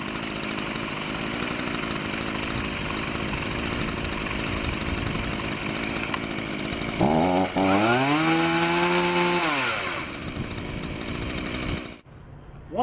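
An Earthquake chainsaw engine runs with a loud, steady rattling drone, then revs up sharply with rising and falling pitch before cutting off abruptly near the end.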